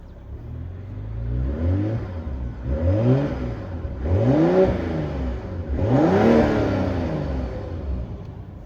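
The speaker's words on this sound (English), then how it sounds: "Go ahead, give it a quick rev." A 2026 BMW M440i with rear-wheel drive revs repeatedly, three or four rising engine swells with sweeping harmonics, each climbing and falling back, up close and loud with no talk over it.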